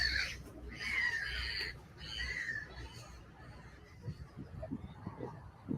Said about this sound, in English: The birds sound happy.